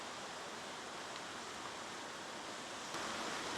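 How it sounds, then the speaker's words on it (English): A loud rushing brook at a wilderness campsite fills the whole clip as a steady, dense broadband wash of water noise, close and unbroken, with no voices over it. "Man, that water's loud."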